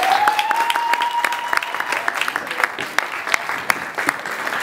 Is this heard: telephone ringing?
no